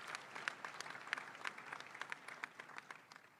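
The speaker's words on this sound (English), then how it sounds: "It's okay to clap." Audience at a spring commencement ceremony breaking into light, scattered applause, a thin patter of separate claps spread evenly with no voices on top.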